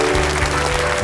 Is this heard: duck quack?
no